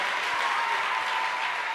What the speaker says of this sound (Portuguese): Uma salva de palmas para o irmão Flávio,